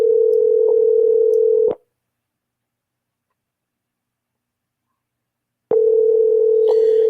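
A telephone ringback tone sounds while waiting for someone to pick up, a steady loud buzzing burst that cuts to silence for several seconds and then resumes.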